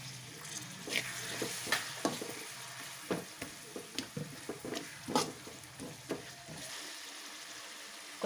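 Ginger garlic paste sizzling and frying in a pan for fried rice, a steady crackle broken by repeated scraping stir strokes, close and moderately loud with no talking.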